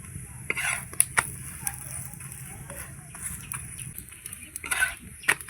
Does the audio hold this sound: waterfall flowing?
no